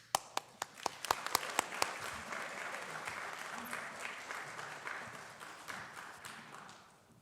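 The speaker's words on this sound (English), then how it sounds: "please give me one more applause." Audience applause at a college spring honors night: a few sharp nearby claps ring out first, then a broad crowd of hands joins in a sustained wash that gradually tapers off toward the end.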